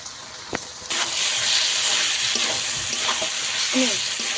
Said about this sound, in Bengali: এর মধ্যে আমি আর জল দেবো না, এবার শুধু কষাবো।